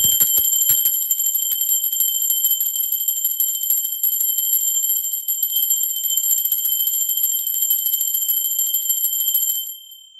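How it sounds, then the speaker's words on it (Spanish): A bell is struck a few quick times, then rings on as a bright, sustained high tone for several seconds, loud and alone, before it fades out. "¡Va campana!"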